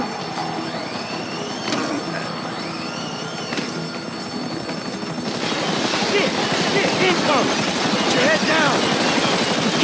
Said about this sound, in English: A bureau chopper seen you on the side of the building.